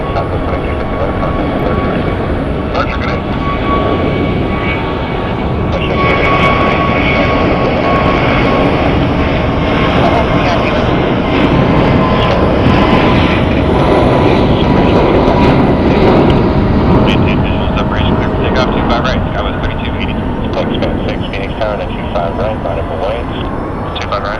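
An Airbus airliner on SkyWest flight 3280 departs runway 25 right at Phoenix Sky Harbor bound for Kona, Hawaii, its engines roaring loud and steady throughout, with talk over the noise.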